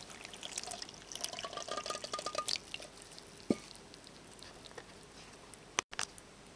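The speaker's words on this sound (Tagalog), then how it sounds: "So, lalagay natin yung water natin." Water poured into a bowl of rice flour and cornstarch for kutsinta: a soft, faint trickling and splashing stream, then a few quiet drips and one sharper tap near the end.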